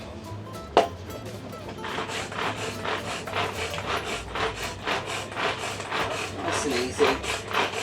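A hand-operated manual blender chopping leaves, with a rhythmic series of rasping, grinding pulls close by, about a dozen strokes in steady succession, and a single sharp knock near the start; a person speaks briefly over it.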